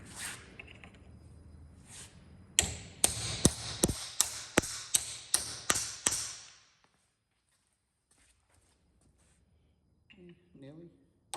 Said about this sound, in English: snug it down with a drift and a hammer like we did before.